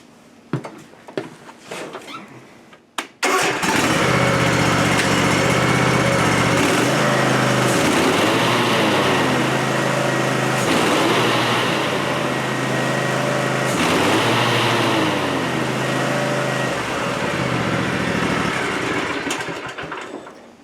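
An Ariens Ikon zero-turn mower with a fault that stops it cutting grass is heard up close. A few brief cranking sounds lead to the engine catching, then a loud, steady run with slight surges for the rest of the time.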